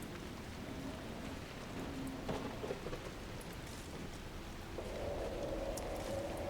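Steady rain falls in the Crestwood region of the video game Dragon Age Inquisition, a constant hiss of raindrops with faint rumbling beneath and a low tonal drone rising near the end.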